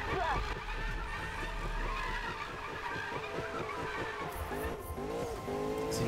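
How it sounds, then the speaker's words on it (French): A Ford Mustang drifts in the Need for Speed video game, with a loud, sustained tire squeal over a droning engine that holds steady and then shifts pitch near the end. "C'est une épreuve de drift."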